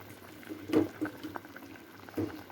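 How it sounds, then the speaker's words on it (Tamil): Fish curry bubbles in a pot, heard close and soft as a few irregular plops and pops over a low simmering hiss. "இப்போ குழம்பு கொதிச்சிருச்சான்னு பார்ப்போம் செமையாக கொதித்து ரெடி ஆயிடுச்சு"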